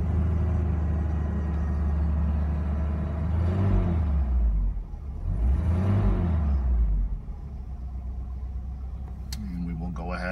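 Engine of a 1986 Alfa Romeo Spider running steadily with two rising and falling revs in the middle, a close, continuous rumble throughout.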